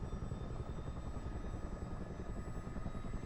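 Low, steady rotor drone of a Chinook helicopter landing in the MSFS 2024 flight simulator, a constant thrumming engine hum with a faint high whine, heard alone.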